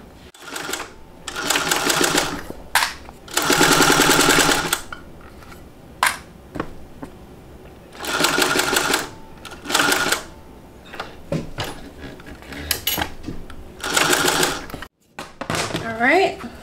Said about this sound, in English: now we're gonna sew this together at 1/4 of an inch seam allowance